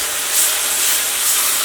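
Water boiling in a pan on the largest stovetop burner, giving off a continuous, even hiss that swells slightly at moments, close and alone with no talking.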